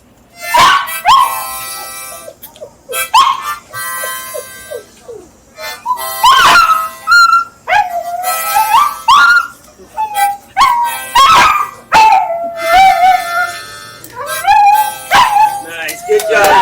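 A dog barks, yips and howls in loud, close, repeated bursts with short gaps between them during an outdoor walking tour, and a person speaks briefly near the start.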